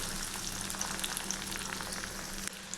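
Small shallots sauté in hot oil for a garlic pepper kuzhambu, giving a soft, even sizzle with faint scattered pops. It sounds quiet and continuous, with no speech.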